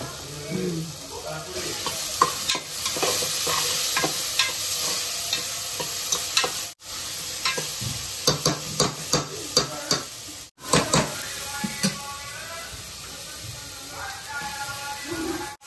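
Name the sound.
frying turmeric and ginger garlic paste for country chicken curry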